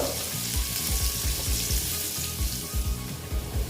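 Potatoes with a little turmeric fry in a pan, a loud, steady sizzle of hot oil that carries on continuously, with low bubbling pops and occasional soft stirring noises.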